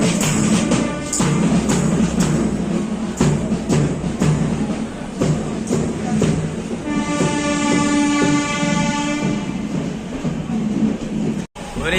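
The Amrit Bharat Express, Malda Town to SMBT Bengaluru service on its inaugural run, pulls out of Vijayawada Junction with a steady loud rumble, rhythmic clickety-clack of wheels over rail joints and a sustained horn blast midway.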